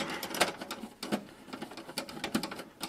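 A Torx screw is unscrewed from the back plate of a PC, giving faint, close, irregular clicks and ticks from the driver turning, with a few sharper taps among them.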